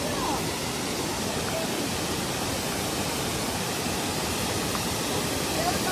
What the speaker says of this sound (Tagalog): Ito naman yung falls number 1.